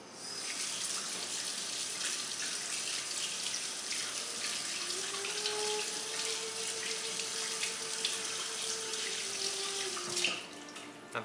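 Tap water runs steadily into a sink as mayonnaise-covered hands are rinsed underneath, a continuous close splashing hiss with small shifts in tone, ending in a brief clatter.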